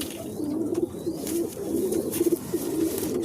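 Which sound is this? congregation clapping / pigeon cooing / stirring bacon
pigeon cooing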